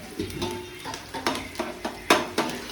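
Onions being stirred in a pan for biryani, with a spoon scraping and knocking against the cookware in uneven strokes about every half second, over a faint background of cooking.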